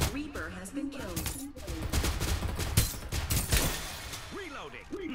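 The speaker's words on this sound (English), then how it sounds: "I still hear the sniping shots" Sniper gunshots in the Farlight 84 battle-royale video game: a string of sharp cracks and bursts of gunfire mixed with other battle noise, with a voice talking over part of it.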